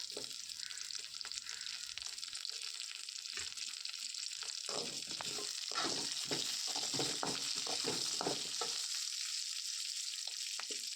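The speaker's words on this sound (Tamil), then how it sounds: "இப்போ தக்காளி பூண்டு சேர்த்துட்டு இதையும் வந்து நம்ம நல்லா வதக்கி எடுத்துக்கலாம்" Tomato, garlic and onion sauté in a pan, giving a steady close hiss of frying with soft stirring scrapes and clatters through the middle, no talking.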